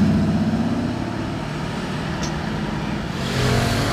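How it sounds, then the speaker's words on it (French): A Porsche V12 sports car engine rumbles steadily and loudly close by at a car gathering, holding a dense low drone with a slight swell near the end and no talking. "Écoutez le V12."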